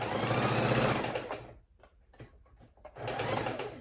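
A sewing machine stitches across a scrappy quilt in steady, loud, dense bursts of motor hum and needle chatter. It stops for about a second near the middle and then starts running again.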